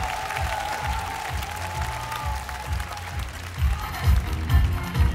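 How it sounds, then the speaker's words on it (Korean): Audience applause and crowd noise at a waacking dance battle, a steady wash of clapping and cheering under a booming low beat, swelling louder toward the end. "동갑내기 왁킹 댄서 마리드 그리고 혜준에게 뜨거운 박수가 필요합니다"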